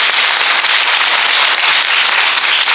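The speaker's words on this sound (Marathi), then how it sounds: "ते उद्धव बापू यांचं सर्वांनी एकदा टाळ्या वाजवा." A crowd claps together at a Varkari kirtan gathering, a dense, even wash of applause filling the whole moment at close range with no voices over it.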